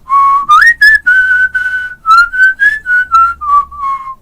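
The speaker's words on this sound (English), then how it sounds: "Now what about whistling to a niggin?" Someone whistles a short melody by mouth, a niggun such as Shalom Aleichem, in clear, loud, close phrases of sustained and sliding notes with no other sound.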